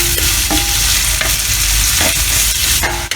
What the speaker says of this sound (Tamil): ஆட் பண்ணிட்டு அதையும் நல்லா வதக்கிக்கலாம்.